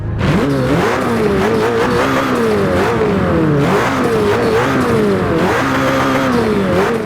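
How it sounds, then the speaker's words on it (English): A car engine revs hard several times, its pitch climbing and falling in repeated surges, loud and close. "Let's rev up the car, see what it sounds like."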